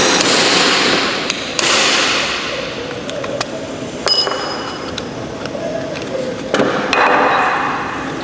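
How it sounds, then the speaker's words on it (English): Sharp metallic hammer strikes on a punch driving out drilled aircraft rivet tails during sheet-metal patch removal, a handful of loud ringing impacts spaced irregularly with short pauses between them. "you want to use a punch and punch the tails out."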